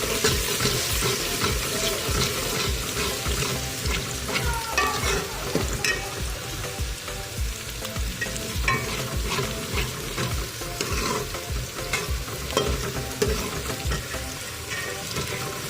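A spoonful of ginger garlic paste sizzles and fries in a pan for a brinjal and arvi curry, a dense continuous crackle with stirring scrapes and no talking.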